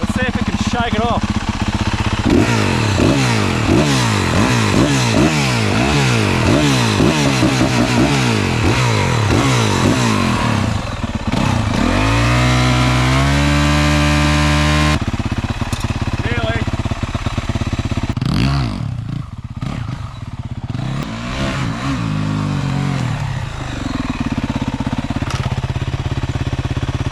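A Yamaha WR450F dirt bike engine, sandy after a simulated crash, revs hard again and again in rhythmic bursts, then settles and revs once more, loud and close throughout.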